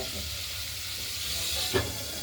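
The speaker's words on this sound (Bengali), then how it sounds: "মাছগুলো ভাজা হচ্ছে" Pieces of rohu fish frying in oil give a brief steady sizzle and hiss up close, with one faint knock near the end.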